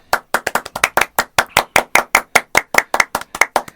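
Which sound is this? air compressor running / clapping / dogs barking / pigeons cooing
clapping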